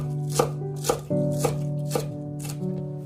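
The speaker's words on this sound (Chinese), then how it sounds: "直接把它切成葱花。" A knife chops spring onions on a cutting board: about five crisp, evenly spaced strikes close by, with a faint hum underneath and no speech.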